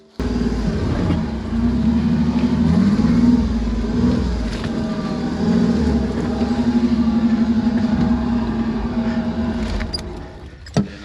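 The Pathmaker rig vehicle drives a short distance into the shade, its mid-pitched engine running steadily for about ten seconds with slight rises in revs, fairly close, before settling and ending with a brief knock.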